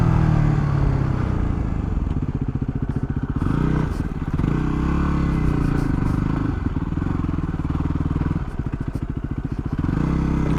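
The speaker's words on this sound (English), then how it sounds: "It's so cool to be on a bike that does this kind of stuff, man." A Yamaha WR250R dirt bike runs close and loud while riding off-road, with a steady engine drone that rises and falls with the throttle, plus rattles and clatter from rough terrain.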